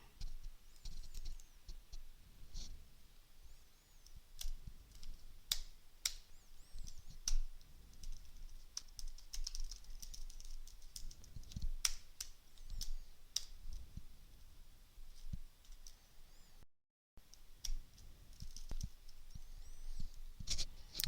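Typing on a computer keyboard, scattered quiet clicks and taps at an uneven pace, close and faint over a low hum, with one brief dropout.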